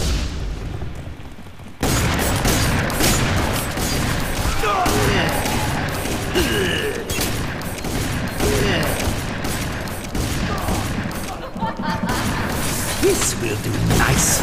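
Covering gunfire in FEAR 3 multiplayer on the Black Gold map erupts suddenly after a quieter start, then continues as loud sustained volleys with booms and crashes, with brief voice lines mixed in.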